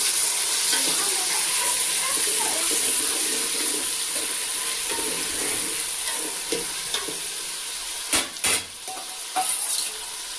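Potatoes frying and sizzling in a pan in a village kitchen, a steady bright hiss running throughout with a few sharp stirring clatters and brief knocks near the end; no speech.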